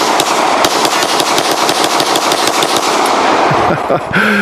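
Two Hi-Point pistols are fired in quick succession outdoors, loud and close, each sharp report running into the next in a rapid, almost continuous string before it stops near the end.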